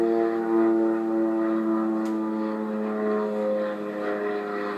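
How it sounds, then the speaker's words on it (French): A propeller plane drones steadily with a sustained harmonic engine hum, loud and continuous, as if passing low overhead. "ont même filmé l'avion lorsqu'il passait au-dessus de leur domicile"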